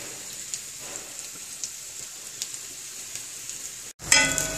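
Potato slices fry on a tawa over a medium flame, giving a steady, soft sizzle with faint crackles, close by, until a sudden louder clatter at the end.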